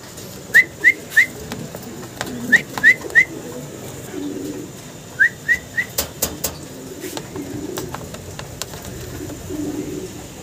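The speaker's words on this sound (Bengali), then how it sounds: "ভিডিও স্ক্রিনে আমরা এক পেয়ার রেসার কবুতর দেখতে পারতেছি" A pair of racer pigeons giving short whistled calls in three quick bursts of three, followed by a run of clicks or wing flaps, fairly close and without talking.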